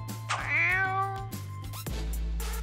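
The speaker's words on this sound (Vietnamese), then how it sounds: "Con mèo đáng ghét." A cat meows loudly in one long, drawn-out, wavering cry, followed by a shorter second call, heard close up against a steady low hum.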